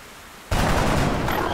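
Gunfire in XCOM: Enemy Within, a sudden loud blast or burst that starts abruptly and roars on close and full, with no talk over it.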